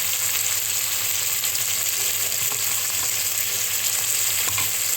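A paste of fennel, ginger and green chili frying in a pan for a paneer dish, a loud, even hiss of sizzling oil with faint stirring underneath, steady throughout and no voices.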